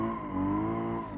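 A car drifting in the BeamNG driving game, its engine droning steadily with a sustained tire squeal running through the whole short stretch, loud and close.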